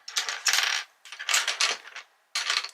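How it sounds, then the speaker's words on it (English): Colouring pencils shuffled and pushed across a desk, three bursts of bright rattling clicks and clatter separated by short pauses, close and fairly loud. "I'm just going to move my pencils"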